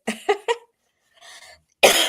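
A person coughs three times in quick, sharp bursts, then gives a softer breathy sound and a final harsh cough, close and clear with no talking.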